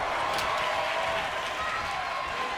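Arena crowd in the WWE 2K23 wrestling video game roars and applauds in a steady, dense wash of cheering that holds at an even level throughout, with no clear voices standing out.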